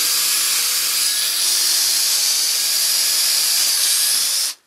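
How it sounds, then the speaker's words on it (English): A hole saw drills through a layout for a model railroad switch machine, a loud, steady, high-pitched whine that holds for several seconds and then cuts off abruptly. "that's where we'll drill the hole for the machine."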